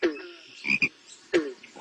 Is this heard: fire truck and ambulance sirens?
no